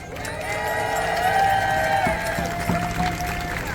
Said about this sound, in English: Big round of applause for Cody.